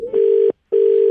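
Telephone disconnect tone: two steady, loud electronic beeps at one pitch, separated by a short silence.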